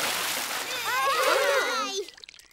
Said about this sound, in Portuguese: O papai espirrou água em todo mundo.